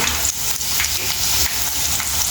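Bitter gourd slices frying in a pan until golden make a loud, continuous close-up sizzle with small bubbling pops throughout.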